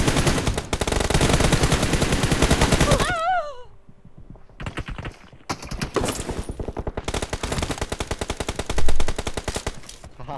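Automatic gunfire in the mobile shooter PUBG Mobile, loud rapid bursts of shots at close range, a long burst, a pause, then further sustained bursts, with someone talking in between.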